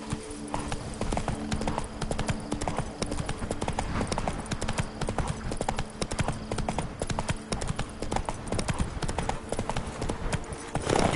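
Horse hooves clip-clop steadily and close throughout a countryside ride, a dense run of rhythmic clops with a brief whinny-like sound possible underneath.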